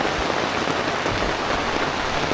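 Heavy rain pouring down steadily at a camp during a storm, a loud, dense hiss of drops filling the whole clip with no voices.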